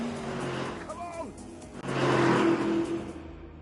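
A heavy Lamborghini Urus hounds a Porsche 911 Turbo in a racing video game, engines droning and revving close by, rising into a louder surge of acceleration halfway through.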